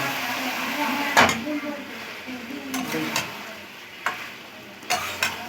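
Country chicken stir-fried with whisked sour yogurt in a pan, a steady sizzle under a spoon scraping and stirring. Sharp clanks of the spoon against the pan come every second or so.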